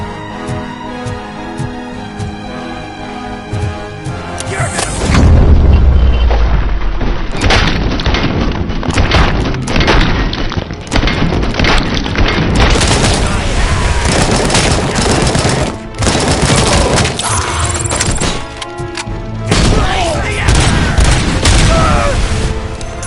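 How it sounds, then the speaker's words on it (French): A grenade going off in the RoboCop Rogue City video game, a deep booming blast that opens a long stretch of loud, dense combat noise with rapid gunfire, under occasional speech. "Oh la grenade."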